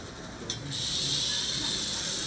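A rattlesnake at a Texas rattlesnake festival starts rattling its tail, a sudden dry, high, sustained buzz that kicks in after half a second and holds steady, close and fairly loud.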